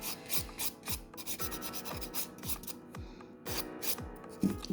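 Steady back-and-forth rasping of a nail file shaping and levelling a nude builder-gel nail overlay, close and fairly loud, in a brisk repeated rhythm of short strokes with no talking.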